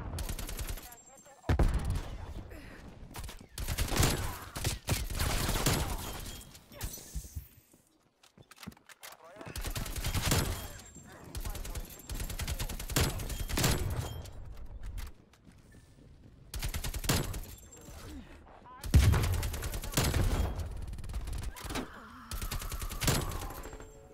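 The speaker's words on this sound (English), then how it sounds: "This is the AK-47 in Black Ops Cold War." AK-47 bursts ring out in Black Ops Cold War, a video game, as repeated loud automatic volleys separated by short pauses, with a voice talking over parts of the firing.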